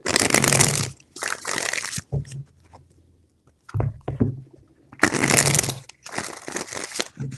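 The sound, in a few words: tarot cards being shuffled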